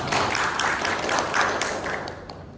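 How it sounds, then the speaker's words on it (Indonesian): Seminar audience applauding: a dense wash of many hands clapping together, steady and fairly close, tapering slightly near the end. "Aplaus untuk kita semua."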